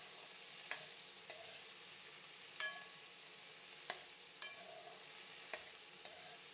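Tomatoes frying in a little leftover oil for a homemade pea and potato (matar aloo) dish give a faint, steady sizzle, with a spoon clicking against the pan about once a second as they are stirred.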